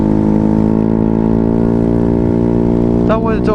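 An automatic scooter with a loud full-system racing exhaust idles close by, giving a steady, deep, buzzing drone that holds an even pitch throughout.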